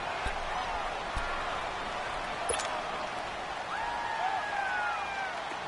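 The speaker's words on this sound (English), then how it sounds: "the crowd getting into it as we come up on a big third down" Steady crowd noise fills a stadium in a football video game as a big third down approaches, a broad, even roar with a few faint sharp knocks and a brief high whistle-like tone.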